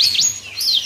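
A small bird, a yellow-fronted canary (Mozambique), sings a quick, bright pair of sweeping chirps, close and clear.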